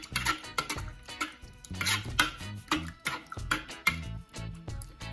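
Snapper ceviche being stirred in lime juice, with repeated clinks and scrapes of a utensil against a bowl in an uneven rhythm, close and fairly clear, with no talking.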